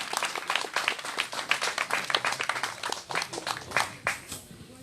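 A crowd at a public gathering in Gabon claps for the prime minister, loud, uneven rounds of hand clapping with some cheering mixed in, rising and falling across the whole stretch.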